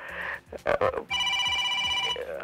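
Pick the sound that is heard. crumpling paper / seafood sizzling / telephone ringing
telephone ringing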